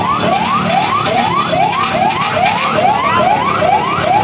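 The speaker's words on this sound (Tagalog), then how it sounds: "So nagdatingan na rin yung mga fire truck or mga water truck" A fire truck siren wails loudly and close by at a residential fire in Manila, its tone sweeping upward again and again in quick repeated cycles.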